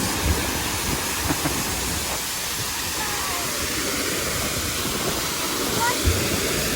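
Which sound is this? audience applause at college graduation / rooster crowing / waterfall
waterfall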